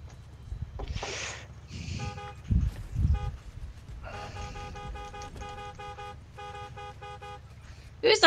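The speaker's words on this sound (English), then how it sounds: "Who's honking?" Car horns honk in Fortnite: several bursts of short and sustained tooting, fairly loud, while players talk and game sounds play around them.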